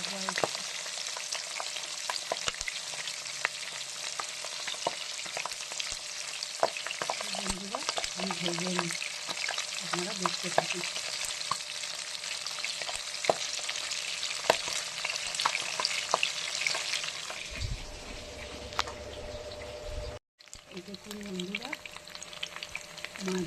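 Pabda fish fry in hot oil in a pan with a steady, close sizzle, while a utensil scrapes and stirs at intervals. The sizzle thins out toward the end.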